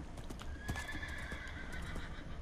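Horse in the video game Minecraft, its hooves clip-clopping in a quick steady rhythm close by, with a neighing whinny partway through.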